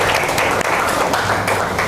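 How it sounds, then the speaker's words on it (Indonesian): A classroom full of people at a vocational high school applauds, a dense, steady patter of clapping hands throughout. "tepuk tangan buat Putri"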